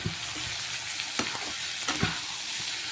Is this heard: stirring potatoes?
yes